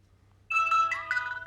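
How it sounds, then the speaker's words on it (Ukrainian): A used mobile phone bought secondhand starts playing its ringtone melody abruptly, a clear, loud sequence of bright electronic tones with no talk over it. "Зараз ми просто ще на мелодію перевіримо"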